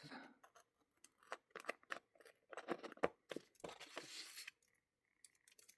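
Scissors snipping through planner sticker sheets, a series of close, crisp cuts and paper rustles in an irregular rhythm, quiet overall with soft handling sounds.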